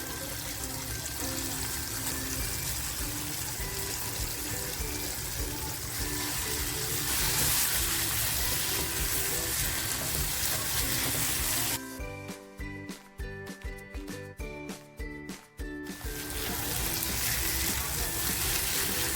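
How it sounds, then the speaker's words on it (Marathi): Paneer tipped into a pan of cooked tomato masala hisses and sizzles steadily, then a stretch of sharp stirring scrapes and clatters before the frying hiss returns, with no talk over it. "आता जे पनीर घेतलं होतं ना ते पनीर टाकते"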